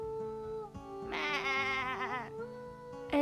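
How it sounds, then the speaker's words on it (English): A frightened sheep bleats in a wavering, quavering call that rises and falls over a second or so, close and clear, with a low droning score underneath and no speech. "his sharp hearing heard the frightened bleating of a sheep."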